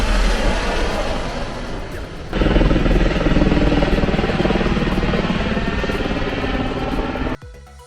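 Helicopter flying over Palm Island in Dubai, a steady loud rotor and engine roar that swells slightly midway and holds before cutting off near the end, with no voices.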